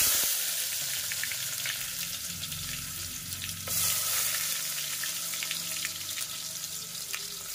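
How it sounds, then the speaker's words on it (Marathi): Chopped onion sizzles loudly in hot oil with cumin and mustard seeds for a mixed vegetable dish, a steady bright crackle with brief stirring scrapes and no talking. "कांदा पण चांगला परतून घ्यायचा।"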